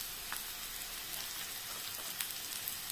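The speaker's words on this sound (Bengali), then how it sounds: "দিয়ে আমি এবার এইটাকে আবার ভাজতে লাগলাম।" Dried Bombay duck (loitta shutki) frying with red chilli and Kashmiri chilli powder, giving a steady soft crackling sizzle with scattered small pops, fairly quiet and continuous with no talking.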